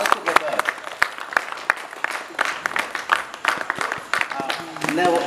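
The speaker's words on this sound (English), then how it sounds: "Please clap loudly all together." Women clap at an International Women's Day celebration, a lively mix of individual sharp claps from a modest group, uneven and bursty, with voices talking over the clapping near the end.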